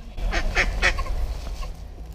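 A duck in a park gives a few loud nasal quacks close by, then quieter calls trail off over soft outdoor background noise.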